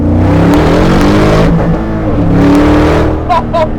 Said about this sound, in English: All right, second gear pull again.